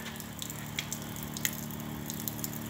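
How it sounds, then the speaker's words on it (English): Steady low hum of a water pump on a luggage trailer fitted with a rooftop tent, a continuous drone with faint ticks and drips above it, fairly quiet and close. "That humming noise is the pump."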